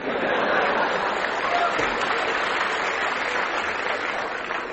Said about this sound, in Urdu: آپ اس پر بھی تالیاں بجا رہے ہیں